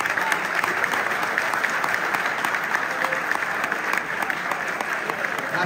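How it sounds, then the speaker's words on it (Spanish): Loud, steady applause from the crowd at an Age of Sigmar gaming tournament event, dense continuous clapping throughout with a faint murmur of voices mixed in. "por favor, un fuerte aplauso para esta gente."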